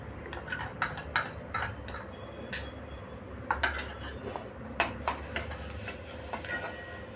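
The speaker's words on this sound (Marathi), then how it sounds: "ते छान असं परतून घेणार आहोत।" Green chili, ginger and garlic paste being sautéed in a pan, heard as irregular utensil clinks and scrapes against the cookware over a low steady sizzle, with no talking.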